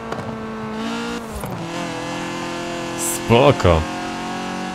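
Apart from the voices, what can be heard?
BMW E30 engine heard from outside, Forza Horizon 4 video game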